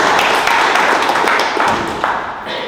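Applause for Sharonda Roberts at a community honoring ceremony for water crisis helpers: steady, dense clapping from a nearby crowd, loud throughout and easing slightly toward the end.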